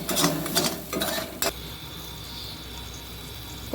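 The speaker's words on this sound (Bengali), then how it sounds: "নেড়ে চেড়ে দিচ্ছি একটু" Utensil stirring in a kadai pan during cooking of a mocha (banana flower) dish: a few scraping, clattering strokes in the first second and a half, then a low steady sizzle-like hiss, close and moderately loud, no talking.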